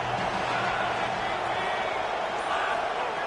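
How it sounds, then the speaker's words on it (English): A stadium crowd in a football video game roars in a broad, steady, loud wash of noise as a defense lines up on third down, rising slightly without a break for the whole stretch. "Decibels rising as the crowd gets behind this defense on third down."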